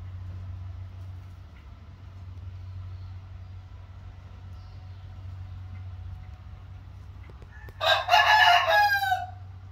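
A rooster lets out one loud, close crow near the end, after a long stretch of quiet hum from a low engine or motor in the background.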